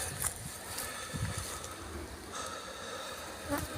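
Honey bees from a recently caught swarm buzzing around a beehive in August, a faint steady hum with occasional louder passes of individual bees near the listener, no voices.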